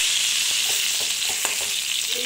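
Patol (pointed gourd) frying with salt in a covered pan at home, a steady dense sizzle with faint scattered ticks and pops, close and alone with no talking.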